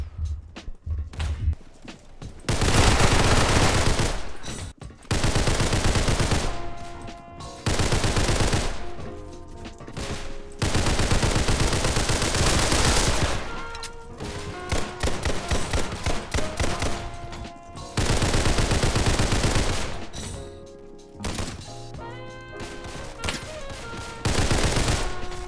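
Gunfire in the Roblox game Criminality: loud close bursts of rapid automatic shots in several long volleys, with short quiet gaps between them.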